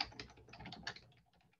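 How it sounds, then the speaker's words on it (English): Quiet, rapid typing on a computer keyboard, a close flurry of light clicking keystrokes that thins out and slows near the end of the short burst. "Man, my typing is all over the place today."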